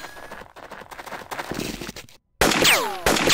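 Gunfire in the turn-based tactical game Jagged Alliance 2 Classic, with militia engaging nearby: rapid crackling shots under a low rumble, a brief silence, then a loud burst with sweeping whistling ricochet-like tones.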